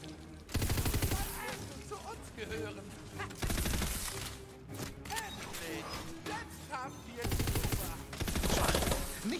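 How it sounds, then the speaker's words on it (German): Guns in Tiny Tina's Wonderlands firing side by side in rapid bursts, loud dense volleys with clanking weapon mechanisms and game effects, broken by short pauses, with a voice talking over parts of it. "weil die Waffen da nebeneinander schießen"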